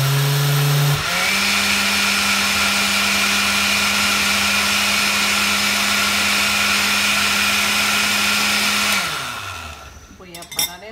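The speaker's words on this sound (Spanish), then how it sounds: "Voy a parar y voy a agregar la grenetina para pasar a licuar todo junto." A blender whirs loudly and steadily for about eight seconds, churning a cheese and mango cheesecake mixture with gelatin, then spins down to a stop.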